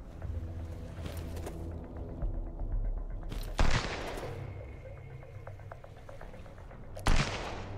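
Machine gun fire in the pirate-attack game Sunkenland, a dense rattle of automatic shots under a steady low rumble, with two sharp, louder bursts standing out midway and near the end.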